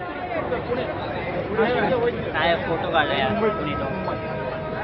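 Crowd chatter at the entrance of a 2017 Mumbai municipal election campaign event at BKC, a dense babble of many overlapping voices close by with a few people calling out over the general hubbub.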